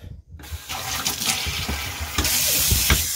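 Tap water runs steadily over a part of an external aquarium filter as it is rinsed in a sink, a close, continuous gushing splash that starts abruptly after a brief silence and grows slightly fuller toward the end.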